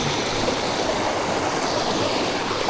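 A wild river rushes over rocks in a steady, loud, broadband roar that holds evenly throughout, with no talking.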